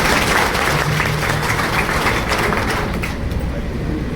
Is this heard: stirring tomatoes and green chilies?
no